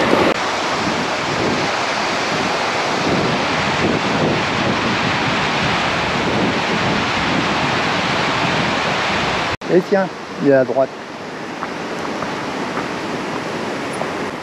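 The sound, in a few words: small waterfall at the Neda waterfalls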